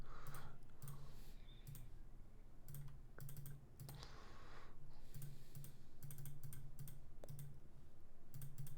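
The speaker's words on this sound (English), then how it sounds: "And we'll type all of this in." Computer keyboard typing while entering statistics data, irregular bursts of close, crisp key clicks spread through the span with brief pauses between runs.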